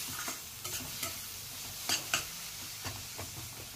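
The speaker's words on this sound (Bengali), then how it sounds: "আরেকটু ভাজতে থাকবো," Spiced taro and prawn curry masala being stirred and fried in a pan, soft steady sizzling under repeated scraping strokes of a spoon, close and fairly quiet with no talking.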